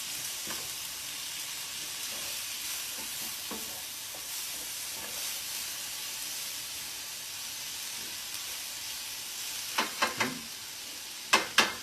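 Tomatoes frying in a pan with cauliflower, eggplant, radish and carrots: a steady hissing sizzle throughout, with a few sharp utensil clicks and taps near the end, close and with no talk.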